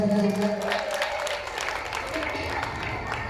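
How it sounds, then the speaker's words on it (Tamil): Applause from a crowd at a temple festival in Burma Colony, Thanjavur, a dense wash of clapping that starts strong and slowly thins, with a voice heard briefly at the start. "நல்ல ஒரு ஜோரங்க கைத்தட்டல் கொடுங்க"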